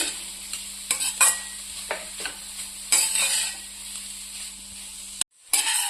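Carrot halwa frying over a medium flame, a steady sizzle under repeated scraping strokes of a stirring spoon against the pan, close and continuous, with a brief cut near the end.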